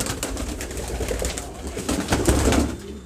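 Pigeons at a breeder's loft, heard as a dense, continuous chorus of soft, throaty cooing from many birds close by, with no talking.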